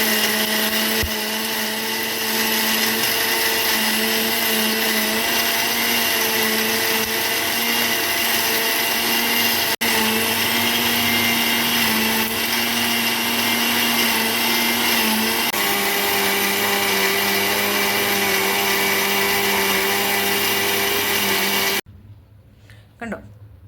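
A mixer grinder whirs loudly and continuously as it grinds ingredients into a smooth paste, its steady motor whine shifting pitch slightly now and then before cutting off abruptly near the end.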